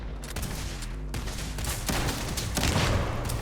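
Rapid gunfire from a weapon in Starfield, a burst of shots rattling close and loud with thumping low booms, continuing throughout without speech.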